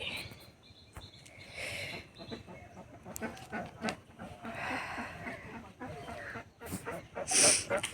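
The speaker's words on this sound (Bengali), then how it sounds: "হাঁস থাকে হাঁস প্যাক প্যাক করছে শুনতে পাচ্ছ তোমরা" Ducks quack in uneven bursts outdoors in a village on a winter morning, fairly close, with rustling and some voices talking in the background.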